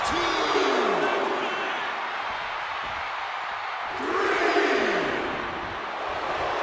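Arena crowd noise in the WWE 2K25 wrestling video game, a steady broad roar of cheering that swells twice as excited shouts rise over it.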